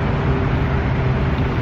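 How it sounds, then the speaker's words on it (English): Steady broadband road traffic rumble heard from a trike heading down a hill, a constant low wash of passing vehicles with no clear individual pass-bys. "Sorry about the traffic noise."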